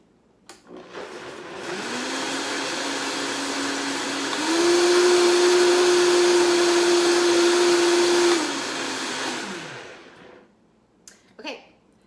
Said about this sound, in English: I'm going to blend that up.